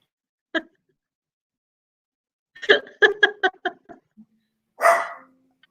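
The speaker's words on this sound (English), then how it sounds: "Sorry, my dog is barking at something." A dog barks once, then lets out a quick run of six or so sharp barks, followed by one more bark after a pause. The dog is close by and there is no talk.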